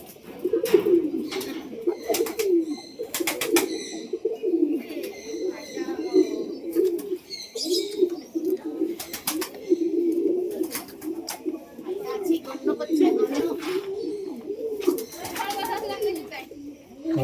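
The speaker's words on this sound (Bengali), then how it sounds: "এখানে দেখুন বন্ধুগণ, মুরগি আর কত কবিতর পায়রা সব" Pigeons and doves coo continuously in a small zoo enclosure where chickens are also kept, their low bubbling calls close and overlapping, with sharp chirps and brief bursts of noise scattered through.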